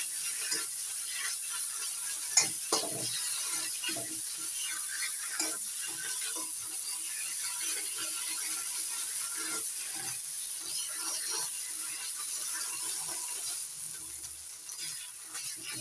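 Soft, irregular scraping and tapping of a spatula stirring thick ground cauliflower leaf paste with fried onion, garlic and black cumin in a pan, over a faint steady sizzle.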